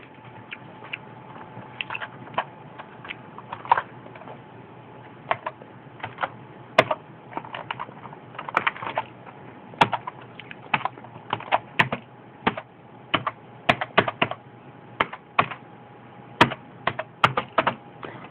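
Someone types on a computer keyboard, making irregular bursts of sharp, close clicks and key taps with short pauses between them over a quiet background hum.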